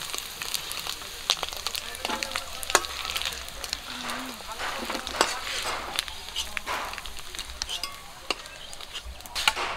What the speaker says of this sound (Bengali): বাকি মাছগুলো একই তেলে ভেজে নেব।